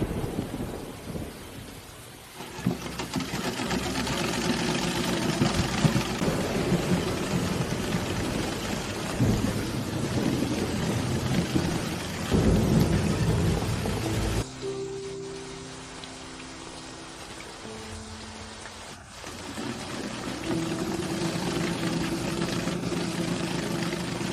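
Steady heavy rain pours throughout with rolling thunder rumbling loudly, easing briefly partway through before the downpour returns.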